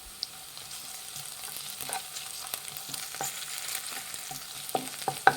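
Chopped onion and ginger-garlic paste fry in a pan for Punjabi bhindi masala, a soft, continuous crackle broken by occasional spatula scrapes and taps, close and fairly quiet.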